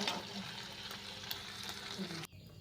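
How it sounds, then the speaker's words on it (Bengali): Food fries and sizzles in a pan while being turned until reddish-brown, a steady close crackle with small stirring knocks that cuts off abruptly near the end. "উল্টিয়ে দিচ্ছি, একটু লাল লাল করেই ভাজতে হবে।"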